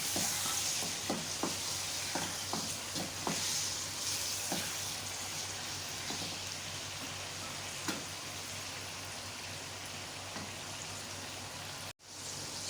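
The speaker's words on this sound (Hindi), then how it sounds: "चिकन को पहले अच्छी तरह से फ्राई करें, प्याज के साथ इसका कलर चेंज करें।" Chicken fries with onions in a pan for a chicken gravy, a continuous close hiss and crackle with several spatula knocks early on, gradually settling into an even sizzle before a sudden cut near the end.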